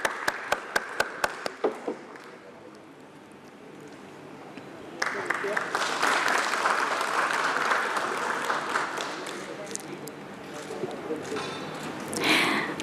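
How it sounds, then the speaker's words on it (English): Audience applause at a company stock-exchange listing ceremony and award presentation, beginning with a few sharp separate claps that fade into a near-lull before a dense, loud burst of clapping that swells toward the end. "Ladies and gentlemen, this calls for a thunderous round of applause"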